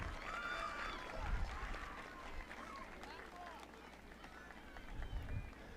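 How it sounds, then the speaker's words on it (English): A graduation crowd at the 2023 Kearsarge Regional High School ceremony claps for parents, family and friends, a faint, distant wash of steady applause mixed with murmuring voices. "Give your parents, family, friends a big round of applause and thank them for getting you here today"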